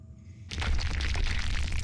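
Explosion in World of Warcraft Classic: after a half-second hush, a sudden loud broadband blast bursts in and rumbles on steadily without fading, with no talk over it.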